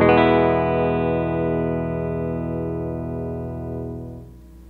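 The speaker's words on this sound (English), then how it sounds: "you can insert a distortion pedal between your guitar and your amp" Blues electric guitar played through a Carl Martin Plexitone distortion pedal into an amp on its clean channel with a blues EQ, a single distorted chord ringing out thick and sustained, then fading near the end, with no talk.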